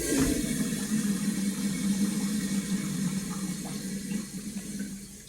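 Water runs steadily from a restroom sink tap at a campground park, a continuous close splashing rush that eases slightly toward the end.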